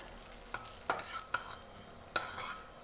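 Bay leaves sizzle in hot oil in a pan, a soft constant frying hiss broken by a few sharp spatters and stirring clicks, close and without voices.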